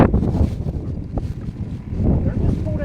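Strong wind buffets the microphone on a lake during a windy fishing outing from a boat, a low rumbling roar that swells and eases throughout, loud and close.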